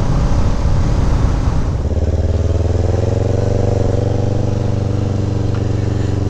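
An old, cheap motorbike on a road ride, its engine droning steadily with a low throbbing hum and wind rush after an initial rougher, shifting stretch.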